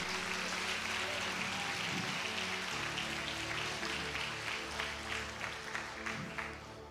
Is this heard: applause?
yes